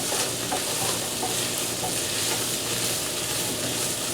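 Meat for copycat PF Chang lettuce wraps browns in plenty of oil in a pan, producing a close, dense, continuous sizzle with light stirring noises and no talking.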